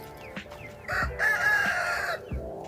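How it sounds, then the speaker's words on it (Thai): A rooster crows loudly nearby on a small farm, one drawn-out call standing above scattered chicken clucks and soft thumps. "อันนี้คือลูกไก่ตี"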